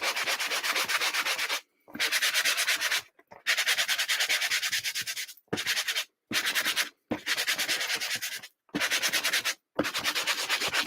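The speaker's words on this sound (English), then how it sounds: "when I put my primer on a wood object, I'm going to give it a little sanding." Sandpaper rubs across a primed wooden object in brisk, repeated strokes, close and fairly loud, each run of scratchy rubbing broken by brief pauses as the hand lifts and restarts.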